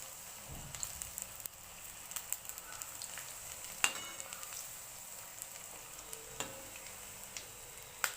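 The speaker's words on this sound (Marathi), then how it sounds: "मी गॅस बारीक केलेला आहे आणि मग आपल्याला थोडंसं परतून घ्यायचं आहे हलवून घ्यायचं आहे" Urad dal bhaji fry gently in oil over lowered gas flame, a faint steady sizzle broken by occasional light clicks and taps as the fritters are turned and stirred in the pan, with no voices.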